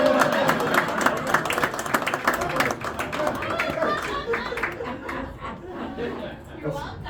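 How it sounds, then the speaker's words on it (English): An audience at a live magic show applauds, with dense clapping and some chuckles and chatter. The clapping is strongest at first and slowly thins out. "give them both a big round of applause"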